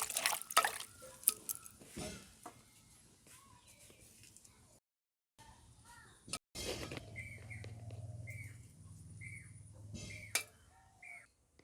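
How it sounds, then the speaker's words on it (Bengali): Green chillies are rinsed in water in a village kitchen, giving irregular splashes, drips and light handling clatter at close range, with birds chirping in the background and a short quiet gap midway. "লঙ্কাগুলো আমি ধুয়ে নিচ্ছি,"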